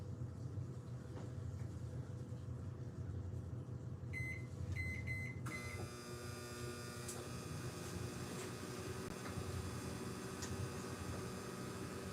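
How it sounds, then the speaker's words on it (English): A microwave oven hums steadily with a low drone, a few beeps sounding partway through before the running hum carries on. "got the microwave on right now"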